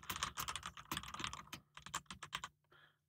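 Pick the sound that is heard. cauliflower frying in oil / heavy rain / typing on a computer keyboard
typing on a computer keyboard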